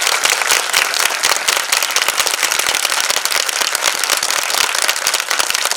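A large congregation at a satsang assembly in Chhapaiya claps thunderously. The dense, crackling applause holds steady at full strength the whole time.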